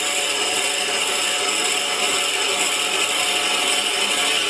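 Steady high-pitched grinding whir of a drill bit boring straight through the middle of a Corian pen blank on a spinning lathe, continuous and close.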